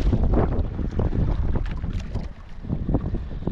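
Strong wind buffets the microphone while fishing from a boat with ultralight casting gear, a steady loud rush filling the whole stretch with only brief dips.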